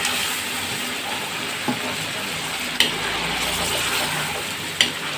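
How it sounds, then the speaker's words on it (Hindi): Fried chicken pieces stirred into sizzling ghee masala in a pan, a steady close frying hiss with a few sharp clinks of the spoon against the pot. "अब हम इसमें चिकन शामिल करेंगे जो हमने फ्राई करके रख दिया था।"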